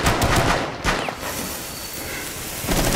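Gunfire in the tactical shooter Rainbow Six Siege on the Favela map, loud dense bursts at the start and again at the end, with steadier in-game ambience between them.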